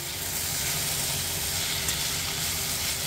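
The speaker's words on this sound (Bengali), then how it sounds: "আলু ভাজবো, তেলটা গরম হয়ে গেছে।" Potatoes fry in hot oil with a loud, continuous hissing sizzle that holds steady and close throughout, with no voices.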